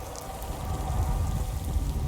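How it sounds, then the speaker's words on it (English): Rain falling in Skyrim, a steady wash of patter and scattered droplets with a low rumbling undertone, continuous throughout. "Oh, it's raining again."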